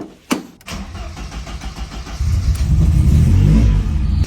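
A Ford Sierra Cosworth, long stored and dusty, cranks over with a starter click and catches, then its engine settles into a loud, close, throbbing idle with a slight rev.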